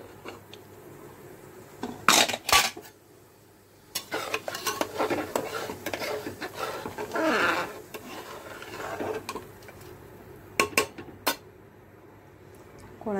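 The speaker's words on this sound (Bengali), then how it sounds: "কুকারটা খুলে নিই" A pressure cooker of chalta and kochu dal is opened in a home kitchen, with sharp metallic clanks of the lid and weight, rattling and scraping, and a person talking in between.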